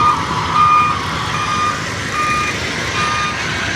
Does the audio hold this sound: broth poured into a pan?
no